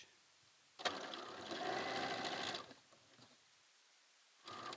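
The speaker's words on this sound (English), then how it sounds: "you're just going to sew across the end and come back the other way" A domestic sewing machine stitches across quilt blocks in a single close burst lasting under two seconds, then falls quiet before starting again briefly at the end.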